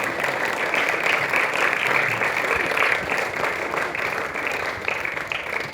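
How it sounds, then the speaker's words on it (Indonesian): A school audience applauds at a PIBG parent-teacher event at SK Temun Sulemandu, with dense, steady clapping from many hands that holds at an even level for several seconds. "Berikan tepukan yang dimulai Bapak Ibu."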